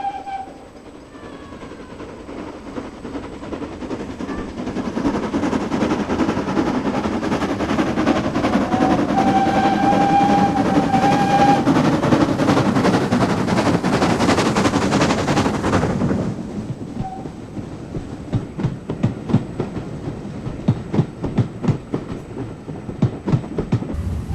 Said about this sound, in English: the train plunges into the 423-yard Brooks Bottom Tunnel